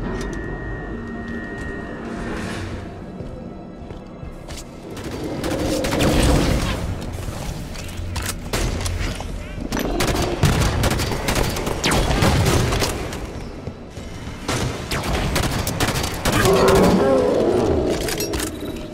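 Combat gunfire against Hunters in Halo 5, with heavy bursts of shots, booms and mechanical clatter rising and falling over nearly twenty seconds, loud and continuous under a dense game soundtrack.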